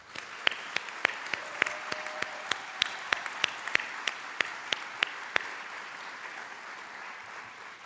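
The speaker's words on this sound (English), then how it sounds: "Let's give our graduates another applause." An audience at a university commencement applauding graduates, a steady wash of clapping with a few sharper individual claps on top, heard from a moderate distance and fading slightly toward the end.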